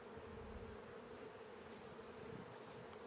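Honey bees hum around an open hive in a new beeyard, a steady, soft, even drone with no pauses and no voices.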